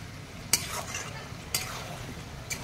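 Chinese-style chicken is stirred in a pan, with a quiet background sizzle broken by three evenly spaced, sharp clacks of the spoon against the pan.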